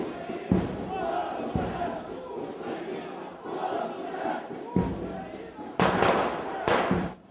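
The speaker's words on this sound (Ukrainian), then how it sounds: "Вони крокують під барабани, димову завісу та патріотичні вигуки." Marchers at a unity march with football ultras move along to drums, smoke and patriotic shouting, a crowd roar with thumping bangs and sharp bursts, voices heard throughout.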